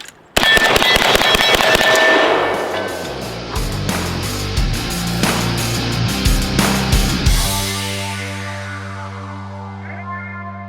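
Zastava M72 RPK rifle firing outdoors: a rapid burst of loud, sharp cracks, then scattered single shots with echo, ending in a sustained tonal ringing.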